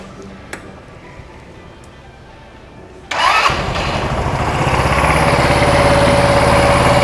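An automatic scooter engine turns over and catches after a quiet stretch, then runs loud and close, its steady roar swelling as the throttle is revved.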